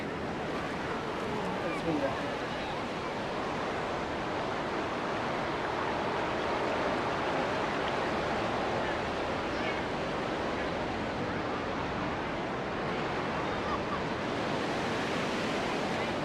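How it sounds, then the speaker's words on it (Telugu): Ocean surf at Perupalem beach: a steady, broad roar of breaking waves runs the whole time with no clear gaps, close and fairly loud, with some wind noise mixed in. "This is the beach."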